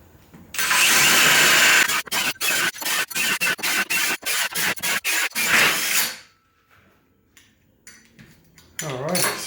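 A hole saw with a three-tooth tungsten bit drills through a workpiece, starting as a loud sustained grinding then breaking into a rapid series of short bursts as the cut pulses, before falling quiet with faint handling afterward.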